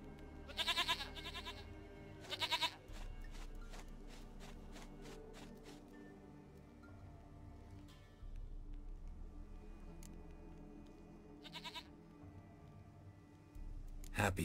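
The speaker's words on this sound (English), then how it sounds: "Goat of mine, dearest, sweetest goat." Goat in The Witcher 3 bleating in several short separate bursts spread across the scene, fairly close, with soft taps and footsteps and game ambience in between.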